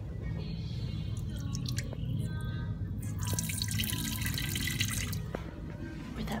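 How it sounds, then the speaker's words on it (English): Steady trickle of water from a person peeing while squatting, continuous and fairly close, with small splashy drips and squishy bits over a constant wet hiss. "Doing a weird video of me squatting and peeing"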